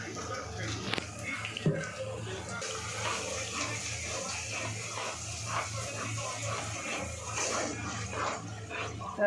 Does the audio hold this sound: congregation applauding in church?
no